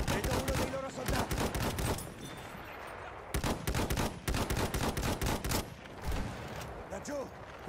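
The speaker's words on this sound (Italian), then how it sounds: "Machine gun, look like." Rapid bursts of machine gun fire in the World War I shooter Battlefield 1, loud and repeated in staccato volleys with short gaps, mixed with battlefield noise and soldiers' shouted voices.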